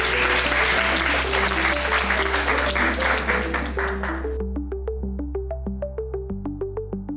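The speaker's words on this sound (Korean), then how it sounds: "큰 박수 부탁드립니다" At a solar power conference lecture, an audience claps for a speaker over a plucked, stepping musical jingle. The applause is dense and loud at first, then fades out after about four seconds, and the jingle's notes carry on alone.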